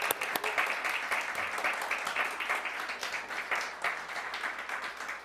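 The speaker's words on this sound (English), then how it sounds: "So let's give Jasmine an incredible round of applause." A live-stream audience breaks into sustained applause, a dense and fairly loud patter of many hands clapping steadily throughout with a few sharper individual claps.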